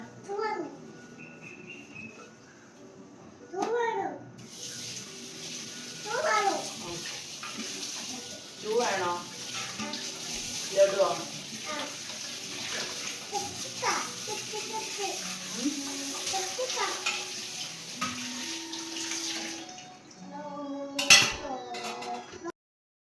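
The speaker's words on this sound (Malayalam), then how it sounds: "ഞാൻ പെട്ടെന്ന് തന്നെ പാത്രങ്ങളൊക്കെ കഴുകി എടുക്കുകയാണ്" Dishes and pots being washed under a running tap in a home kitchen, with clinking plates and utensils over a steady rush of water; a child and an adult talk and hum intermittently throughout.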